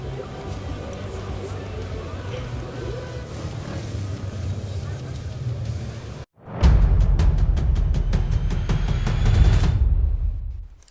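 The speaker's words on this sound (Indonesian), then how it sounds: "MX2 balapan kedua saat gerbang terbuka" MX2 motocross bikes roar away from the starting gate at the MXGP of South Africa. After a steady broadband drone from the crowd, a sudden loud burst of many revving engines rises together and holds, then cuts out.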